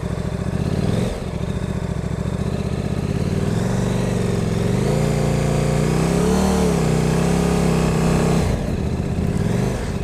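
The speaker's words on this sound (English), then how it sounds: "So here we go on the KTM RC8." KTM RC8 motorcycle engine revving loudly and close, a steady deep roar that rises and falls in pitch through the middle, with a brief dip near the start and the end.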